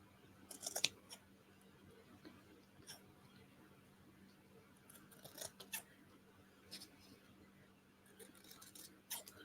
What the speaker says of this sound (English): Trim that down as best I can and then come in with my little scissors.